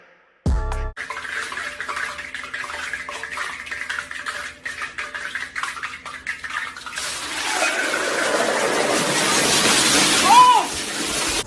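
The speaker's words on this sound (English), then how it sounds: "Yes, you see me pouring oil out of a coffee can" Cooking oil poured out of a coffee can in a home kitchen while making a grilled cheese sandwich, a steady liquid pour that grows fuller and louder over the second half, with talk over the start.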